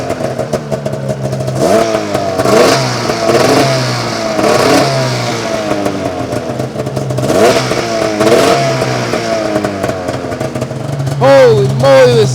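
An old Arctic Cat Firecat F6 snowmobile engine revs repeatedly, rising and falling in pitch over a steady idle, close and loud, with a struggling clutch.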